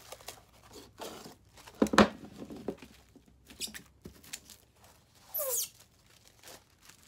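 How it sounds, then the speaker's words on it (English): Plastic wrap unrolled and cut into foot-long pieces gives soft, close crinkling and rustling, a sharp snap early on, and a quick rising tearing zip later; quiet, with no talking. "For your first step, you're going to unroll your plastic wrap"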